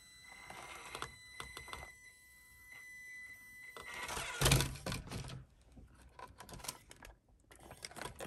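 A Kyosho Mini-Z 4x4 RC car clicks and grinds, with rapid dry ticking in uneven bursts and a louder harsh grinding spell in the middle, close and fairly quiet.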